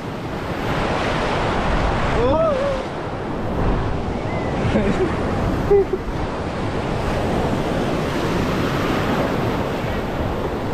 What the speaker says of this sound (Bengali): এই ঢেউটা দেখো। এবার ঢেউটা আসছে দেখো।